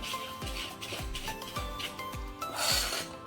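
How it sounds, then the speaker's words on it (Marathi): Cake batter of oil and sugar being mixed by hand in a bowl: repeated soft scraping and swishing strokes at a steady, close rhythm, with no talking. "आधी या मिश्रणाला आपण मिक्स करून घेऊया"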